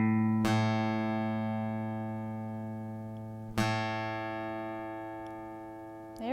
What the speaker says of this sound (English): Let's check out this A here. Same thing. Let's hear that again.